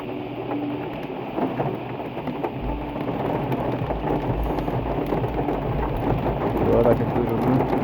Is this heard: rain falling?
yes